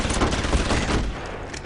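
Combat rifles fire in Deus Ex Human Revolution, a loud, rapid fusillade of overlapping automatic shots crackling close by for about a second before trailing off.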